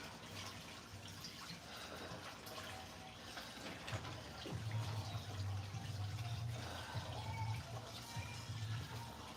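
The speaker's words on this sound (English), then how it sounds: "The water that I just let out of there" Water let out and running, a soft steady gush that starts partway through and continues at low level, with faint indoor background noise before it.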